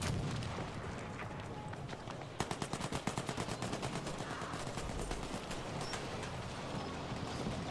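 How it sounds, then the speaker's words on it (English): Rapid automatic weapon fire in the Battlefield V video game, a steady fast burst of repeated cracks over dense battle noise and rumble, continuing for several seconds without talk. "This looks like Sherm Lord's firing that thing off"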